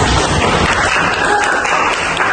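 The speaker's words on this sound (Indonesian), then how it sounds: "Ayo tepuk tangan dulu" Classroom of students claps together after finishing a quiz, a loud, dense burst of applause that fills the short moment without letup.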